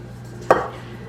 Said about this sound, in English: you're going to scrape down the sides of the bowl to get everything kind of in one glob